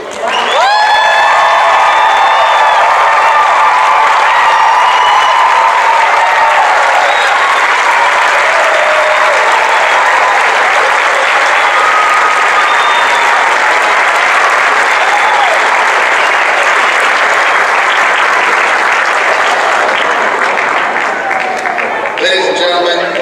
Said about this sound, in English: please join me in giving our 2012 graduates of Park University a hearty round of applause for a job well done